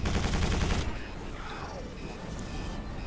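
Rapid, dense gunfire from Strogg enemies in the shooter game Quake 4, loud in the first second, then giving way to a lower rumbling game soundscape with fainter scattered effects.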